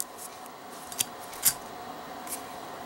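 Brass-cased Zippo lighter with a steel insert being handled: a sharp metallic click of the lid, then a louder snap and strike of the wheel, close up and alone over faint background hiss.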